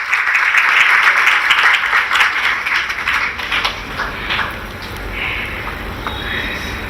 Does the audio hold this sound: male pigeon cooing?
no